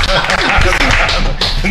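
An audience claps through a steady, dense spatter of applause at a live show, with voices talking over it the whole time.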